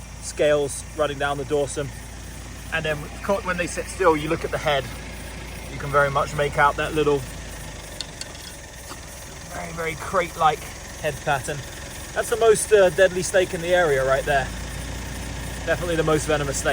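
A low, steady car engine idle rumbles underneath someone talking continuously in the foreground during night road cruising for snakes.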